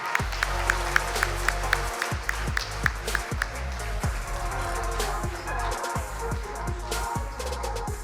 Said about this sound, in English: Please give a round of applause for Romano Prodi.